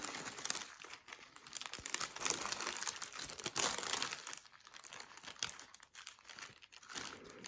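Steady close-up crinkling of thin plastic zip bags holding rhinestones, rustling continuously with brief pauses as they are handled.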